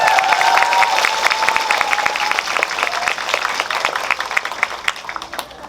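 Audience applause at a Korean movie talk event in a Megabox COEX cinema hall for the film 'Don', steady dense clapping from a large crowd that gradually thins and fades, with a faint tone under it early on.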